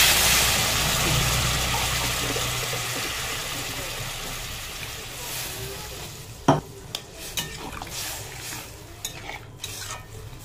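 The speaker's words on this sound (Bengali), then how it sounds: "জল দিয়ে দেবো।" Water goes into a pan of katla fish curry with pointed gourd and potatoes and is stirred; a loud sizzle slowly fades, then a few close clinks and scrapes of a utensil against the pan follow.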